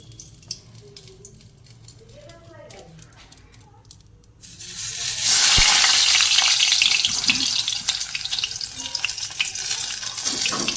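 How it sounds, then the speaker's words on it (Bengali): Papad dropped into hot oil in a wok bursts into a loud, hissing sizzle after a few quiet seconds and keeps crackling close up for the rest of the moment. "তো চলো কড়াইতে এবার তেল দিয়ে দিয়েছি এবার ভেজে নেবো পাপড়গুলো"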